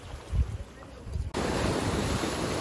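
Sea waves wash in at Manly beach in Sydney, a steady broadband surf roar that swells loudly partway through and holds, with wind buffeting the microphone.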